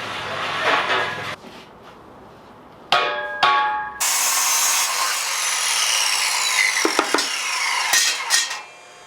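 An abrasive saw cuts steel in a workshop during a welding table build: a loud, sustained high-pitched grinding whine starts partway through, after earlier bursts of metal scraping and rubbing.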